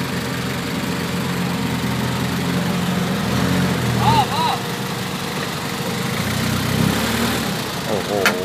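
A dump truck's engine runs heavily while the truck sits stuck in mud up to its wheels, a loud continuous low rumble that rises and strains, with brief whistle-like squeals and voices nearby.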